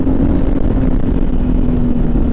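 Kawasaki KLR 650 motorcycle from 2016 on an enduro test ride along a rough road, its single-cylinder engine holding a steady, loud, continuous drone with a constant low hum and no gaps.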